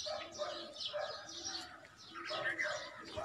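Pigeons coo in soft, repeated rolling calls at a rooftop loft, mixed with chirps and a brief flutter of wings, fairly faint and close, with voices murmuring alongside.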